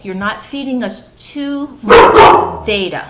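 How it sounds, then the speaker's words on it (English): Ruka, a pet dog, barks loudly at a squirrel in a short burst of sharp barks midway, set among a person's ongoing talking. "That's my dog Ruka barking at a squirrel."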